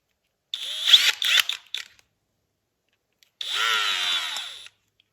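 Two short bursts from an impact driver driving carburetor bowl screws on a 1998 Polaris 600 XLT snowmobile, a stuttering whir then a longer steady buzz, with a pause between them.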